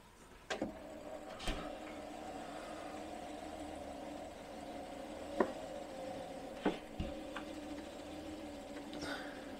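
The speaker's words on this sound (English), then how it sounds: "Bring the window all the way up and see if we can help it out" Slow electric window motor on a Jaguar XJ6 Series 3 raising the glass, a steady low whirring drone running throughout with a few sharp clicks and knocks over it, fairly quiet and close.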